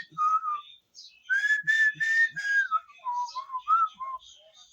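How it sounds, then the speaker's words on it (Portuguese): A person whistling a short cheerful melody, clear close-up phrases of bright sustained and bending notes with brief pauses between them, alone without talk. "Eu tô assobiando."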